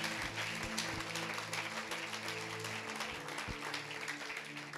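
Applause from a church congregation, a steady crowd clapping that fills the space at moderate level, with a few sharper nearby claps standing out against a low sustained tone underneath.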